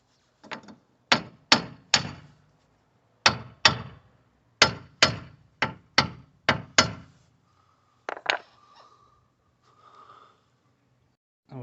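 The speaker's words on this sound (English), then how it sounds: "we'll just get a big socket just to put over the top and try and hammer it on evenly" Repeated metal hammer strikes on a large socket, pressing a new rear wheel bearing onto a Mazda 6, ring out in uneven bursts of two or three, sharp and close, with short pauses between groups and faint clinks after.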